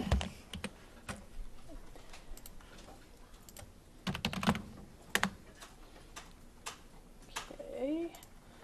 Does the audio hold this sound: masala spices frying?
no